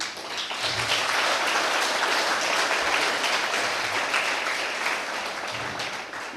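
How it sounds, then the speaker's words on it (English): Sustained audience applause at a Western Regional event of the Story of Our Lives project, a dense, steady wash of many hands clapping that holds loud throughout. "and she deserves an applause."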